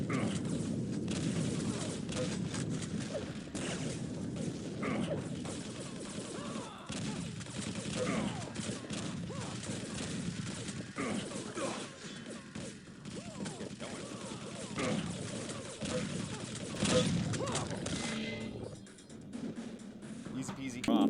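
A shotgun and other weapons fire repeatedly in a PC first-person shooter game, loud, dense blasts and thuds throughout, with a voice talking over the action.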